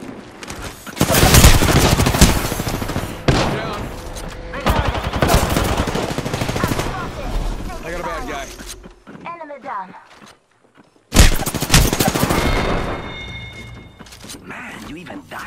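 Dense game gunfire rattles in rapid automatic bursts and single shots nearly throughout, with voices talking over it and a brief quiet gap before the shooting resumes.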